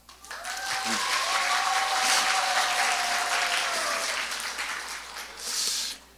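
A congregation at a church youth service claps warmly for a newly arrived youth pastor, a full, steady wave of applause that fades out near the end.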